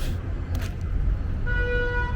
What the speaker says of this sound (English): yeah, honking makes a difference.